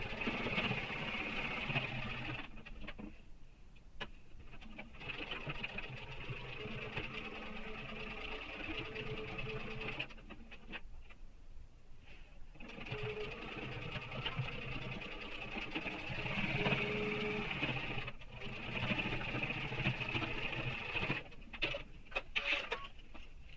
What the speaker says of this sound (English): And we're going to do some extra stitching now.